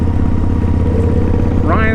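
Triumph and Harley motorcycle engines running together, a steady low rumbling drone that stays loud throughout, with a rising tonal whine near the end.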